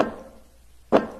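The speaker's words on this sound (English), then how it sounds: "Let's pitch down the first swish sound." A pitched-down basketball swish plays twice, a soft breathy burst, a quiet gap, then a second louder burst, close and alone.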